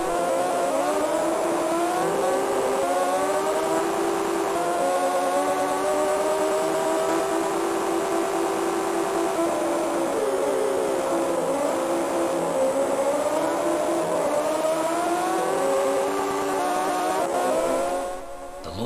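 Honda RVF motorcycle engine in an Amiga racing game, a buzzy, synthetic whine held steadily and wavering up and down in pitch through repeated revs, loud and unbroken until a brief tail-off.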